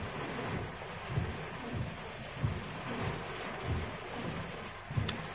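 Heavy rain pours steadily with gusty wind, a dense hiss broken by low rumbling surges that swell every second or so.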